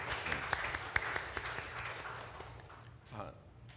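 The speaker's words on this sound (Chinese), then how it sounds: "我们鼓掌欢迎" A church congregation at a Taiwanese-language Sunday service claps to welcome newcomers, a moderate spread of hand claps with a few sharper close ones, fading toward the end as a voice comes in.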